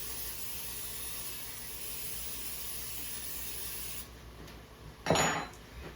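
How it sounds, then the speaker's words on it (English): Pam cooking spray spritzed into a crock pot set on high: one short, sharp hiss near the end, following a steady low background hum. "I'm going to spray it with some Pam."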